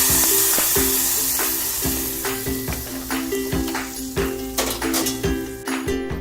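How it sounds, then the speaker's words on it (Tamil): Cashews and almonds frying in ghee for bottle gourd payasam, a steady close sizzle with repeated metallic taps of a spoon stirring in the pan. "நெய்யில் நல்லா முந்திரியும் பாதாமும் வந்துருச்சு"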